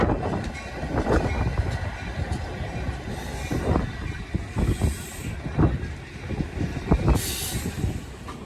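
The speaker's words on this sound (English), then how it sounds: "After a crew swap, the train pulls in again, and now we can actually get on." A commuter train rolls slowly into a Metra station with rhythmic clunks and rattles of wheels over rail joints, brief high squeals of brakes, and a faint voice.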